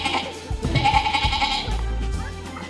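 A goat bleating in a short wavering cry, close and fairly loud, with some faint background noise.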